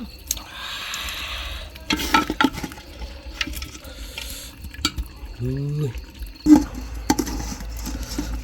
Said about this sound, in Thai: ตักไว้ใส่บาตรนะพี่น้อง